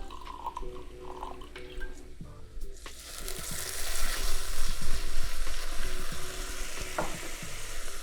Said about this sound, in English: Next thing we're gonna do is we're gonna add some dry vermouth.